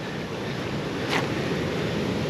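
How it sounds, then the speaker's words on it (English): Sea waves break on the shore at Filey, a continuous loud wash of surf with a brief sharper splash partway through, mixed with some wind noise. "Some lovely waves coming down in here"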